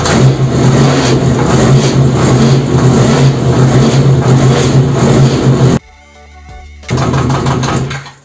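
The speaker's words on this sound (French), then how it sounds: "Je vais démarrer la moto" A Honda VFR motorcycle engine runs loud and close, revving steadily, then cuts out abruptly for about a second before firing back up and running again.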